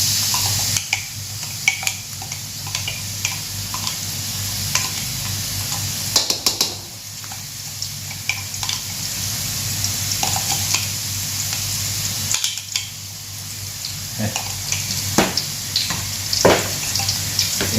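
Homemade tomato sauce bubbles gently in a pan over low heat for slow cooking while a utensil stirs it, giving a soft continuous simmer with scattered scraping clicks and taps close by.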